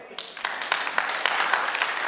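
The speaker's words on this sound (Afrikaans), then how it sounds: "Gee my hande klap, ja." A church congregation claps together in a quick, fairly regular rhythm, the sound bright and close, with voices mixed in.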